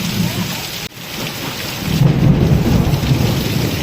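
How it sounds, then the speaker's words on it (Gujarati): Heavy rain pours steadily during a thunderstorm with lightning in Palitana, while deep thunder rumbles and swells, loud and close, filling the whole stretch without any voices. "થોડોક વરસાદ ધીમો પડી ગયો પણ કડાકા ને ભડાકા બંધ નથી થતા"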